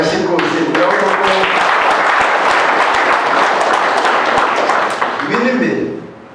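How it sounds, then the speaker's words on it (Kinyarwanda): A crowd at a 2023 Heroes Day celebration in Rugando, Kimihurura, Gasabo gives a child a burst of loud, dense clapping that lasts several seconds, with a voice talking at the start and end. "Kugira ngo uriya mwana mwumere amashyi rwose"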